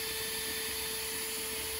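A Makita cordless drill with an 18V battery runs at no load, a steady, high-pitched motor whine without change, an even mechanical hum with a bright tonal edge.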